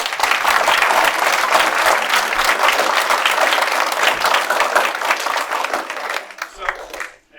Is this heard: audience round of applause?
yes